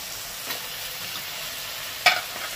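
Okra cooked down with spices and soft onion keeps sizzling in a pan as mango pieces go in. A steady hiss runs throughout, broken by two brief clatters.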